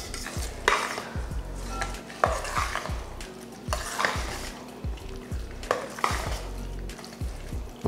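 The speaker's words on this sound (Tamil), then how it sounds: "சேர்த்துட்டு இப்போ கலந்துருவோம்." Curd rice is stirred with chopped coriander leaves in a metal vessel. A spoon scrapes through the rice in a steady rhythmic pattern with regular clanks against the pot, close and clear.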